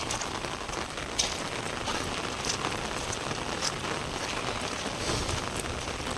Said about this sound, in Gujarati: અમારે પહેલો એલો વરસાદ છે આજનો